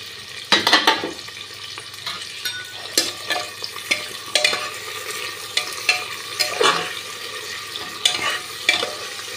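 Whole garlic cloves, green chillies and tomato fry in a pan under a soft sizzle, broken by repeated scraping and stirring strokes that come in uneven bursts, close and fairly loud.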